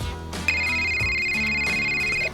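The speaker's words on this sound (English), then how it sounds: "At that point, Trevor's phone rings." A mobile phone rings with a steady electronic ringtone, one tone held for about two seconds over background music, loud and close, in a farm setting on an estate after refuelling.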